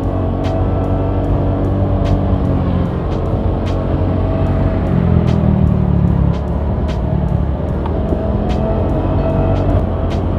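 A scooter with a CVT and an MP7 aftermarket exhaust riding along, giving a steady loud engine drone and rumble with brief swells in intensity, heard alone without talk.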